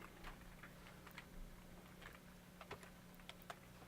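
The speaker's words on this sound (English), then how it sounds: "Now we can start typing a headline." Faint, quick clicks of keys being typed on a computer keyboard, irregular taps over a low steady hum.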